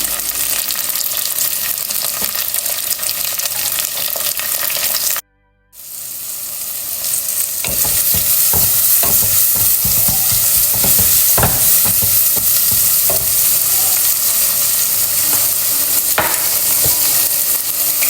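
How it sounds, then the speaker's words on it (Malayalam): Sliced onions with curry leaves fry and sizzle steadily in a pan for a Kerala-style ridge gourd and bone curry, a spoon scraping and stirring through them in repeated strokes, loud and close, broken by a brief silent gap early on. "ഉള്ളി ഇത് നല്ലോണം മൂപ്പിച്ചെടുക്കാം ഉള്ളി നല്ലോണം മൂപ്പിക്കാം"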